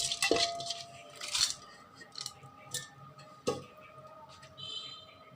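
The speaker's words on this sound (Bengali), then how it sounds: "এখন আমি এটাকে প্রেসার কুকারে ঢেলে দেব।" Washed lentils are poured from a bowl into a pressure cooker. Sharp clinks and rattling patter arrive in a few bursts, with one metallic knock partway through, in a quiet kitchen.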